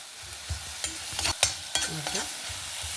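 Fenugreek leaf bhaji being mashed and stirred in a pan: a few irregular scraping, thudding utensil strokes against the pan over a soft background sizzle, close and moderately loud, with no talking.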